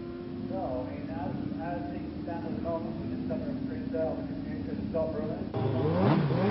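A Suzuki GSX-R motorcycle at a 1989 street bike competition revs steadily on the start line, then launches with a louder surge of engine noise near the end, all under continuous commentary.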